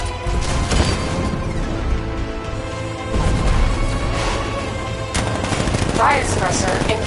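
Riot suppressor gunfire from the Batman Arkham Knight game fires in dense, continuous rapid bursts over several seconds, loud and close, mixed with mechanical clatter and crashing impacts.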